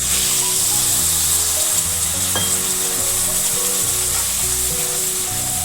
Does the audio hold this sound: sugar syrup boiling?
yes